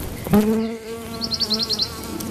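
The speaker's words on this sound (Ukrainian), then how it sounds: "Чуєте, як працюють бджоли?" Buzzing bees hover close by with a steady drone, joined by a quick run of high bird chirps; otherwise the scene is quiet.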